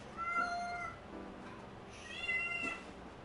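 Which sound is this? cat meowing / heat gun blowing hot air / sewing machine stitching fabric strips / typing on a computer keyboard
cat meowing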